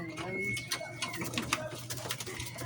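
Pigeons coo steadily in a busy flock, with soft repeated low calls layered together at close range while a person talks over them.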